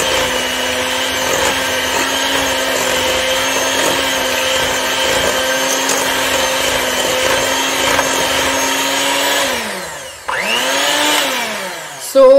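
Electric mixer beating mango cupcake batter, a steady loud whirring hum that holds for about ten seconds, then dips and restarts briefly near the end.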